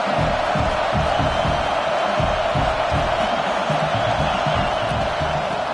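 Stadium crowd roar from a college football video game, a loud, steady wash of cheering and noise filling the whole stretch, with rhythmic low thumps underneath.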